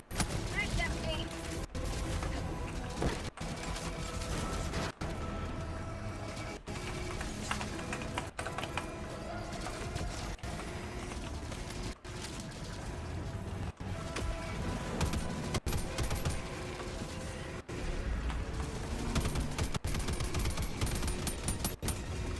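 Rapid bursts of automatic gunfire fill a chaotic video game battle, sharp repeated shots crackling over dense effects throughout, with players talking in between.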